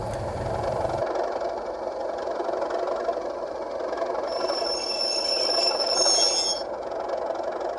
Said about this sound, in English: as you can hear it's a class 37 decoder at the moment.